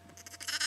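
Icelandic sheep bleating outdoors, a soft, faint series of calls that grow slightly louder and more insistent toward the end of the short stretch.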